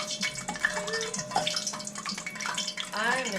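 Drops of water from wet hands hitting hot frying oil used to deep-fry egg rolls, giving a continuous close hissing sizzle with small crackles. A voice briefly sounds near the end.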